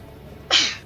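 A single short sneeze, sharp and fairly close, bursting out of a quiet background during casual Diablo III gameplay on Xbox 360.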